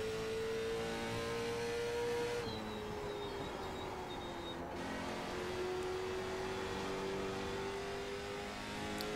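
A race car engine in the iRacing sim at Kern County Raceway holds a steady, loud high-pitched drone, its pitch sliding up through the gears with a brief dip at a shift, continuous and close throughout.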